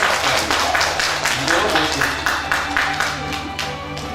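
An audience at a Korean poetry recitation award ceremony breaks into rhythmic clapping that carries across the whole clip, with a voice speaking over it on a microphone.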